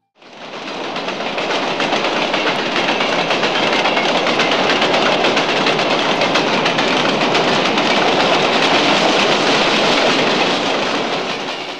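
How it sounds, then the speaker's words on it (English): A loud, steady roar of a train leaving Machu Picchu, Peru, along the tracks, with a continuous rattling clatter that fades in and holds evenly throughout. "We're leaving Machu Picchu by train"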